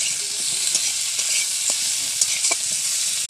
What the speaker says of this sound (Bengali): এরপরে টমেটোর কুচিগুলো দিয়ে দিচ্ছি